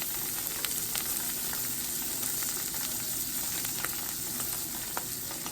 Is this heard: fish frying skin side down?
yes